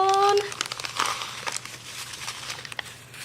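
Material being folded by hand during seed starting, with crinkly rustling bursts and soft crackles running under someone talking, close and moderately loud.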